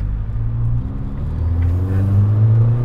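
A Nissan 180SX with a Nismo 1.5-way differential accelerating hard, a loud close engine drone whose low rumbling tone climbs steadily in pitch, with no talking.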